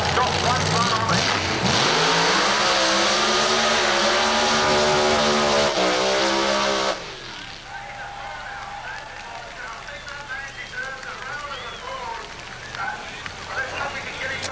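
Drag racing car at Santa Pod Raceway's 1987 World Finals roars loudly with rising revs as it launches, then cuts off sharply to distant crowd and track ambience, with a commentator talking.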